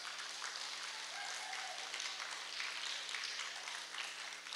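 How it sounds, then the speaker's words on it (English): At an elementary school awards program, a round of applause rises for a staff member: soft, distant crowd clapping that stays steady throughout, with a low electrical hum underneath. "go ahead and give him a round of applause"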